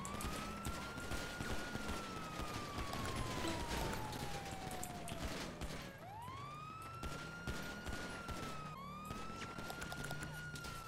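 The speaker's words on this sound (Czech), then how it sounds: "Střílí, střílí, střílí, střílí." Rapid gunfire cracks out in a FiveM (GTA V) police shootout, repeated sharp shots scattered throughout beneath a loud, wailing police siren that rises and falls.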